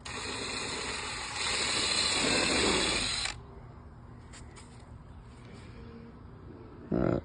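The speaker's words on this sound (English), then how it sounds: "and drill the one on the opposite side." A power drill runs steadily, drilling a hole through the cap of a DIY rod pod, then cuts off after about three seconds, with a quiet pause and a brief final burst.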